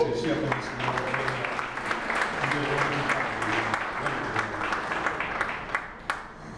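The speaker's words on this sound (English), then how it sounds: "would you all join give a round of applause for this young man, Richard Van Dyke, for actually shepherding" Audience applause at a golf Wall of Fame induction ceremony honoring Dr. Charlie Sifford, a steady, moderately loud wash of clapping from a crowded room that runs throughout, with faint voices mixed in.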